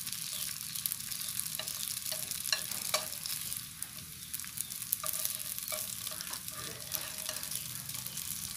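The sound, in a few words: frying and stirring vegan tofu-skin sausage in a pan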